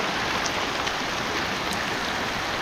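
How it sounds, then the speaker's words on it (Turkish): Heavy, sudden rain pours down in a village: a dense, steady hiss of drops beating on surfaces, loud and close, continuous without any voices. "Sizlere yağmurla veda edeyim"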